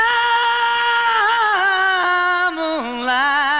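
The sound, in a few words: a cappella male singing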